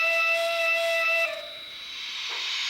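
Whistle of Pennsylvania Railroad K4 steam locomotive 1361, sounding odd because of a hole in it: a steady, bright, multi-toned blast held about a second before cutting off, leaving a lingering hiss of escaping steam.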